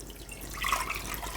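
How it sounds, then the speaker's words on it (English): Dashi broth pours into a pot as a soft, steady trickle of liquid that swells briefly in the middle, heard up close with no voices over it. "I usually like to boil it in a broth, and here I have already made the dashi broth. So I will pour that into the pot"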